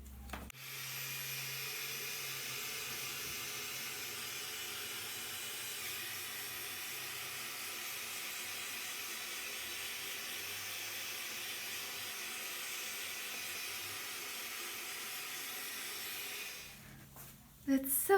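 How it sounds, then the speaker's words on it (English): A heat gun blows over an acrylic paint pour, producing a steady, close airy hiss and fan roar that runs almost the whole time before it cuts off near the end. "Let's use my heat gun again."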